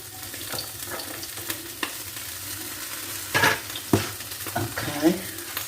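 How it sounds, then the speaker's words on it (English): Vegetables stir frying in hot oil in a pan, a steady close sizzle with scraping and stirring clatter, a few louder utensil knocks near the end. "heating up a little bit of oil, and it says to stir fry the vegetables."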